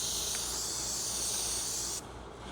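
Spray paint coat, applied a little heavier, hisses steadily and close onto a Honda car's peeling, flaking paint, then cuts off abruptly near the end with no talking.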